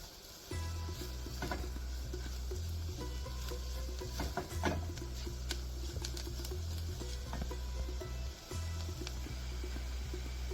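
Kashmiri chilli, turmeric, asafoetida, fenugreek and black pepper powders frying in a pan for an okra dish, a soft, low sizzle with faint crackles and stirring under a steady low hum.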